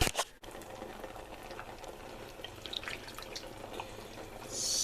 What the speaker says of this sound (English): The hob has only recently been turned off, that's why it's bubbling.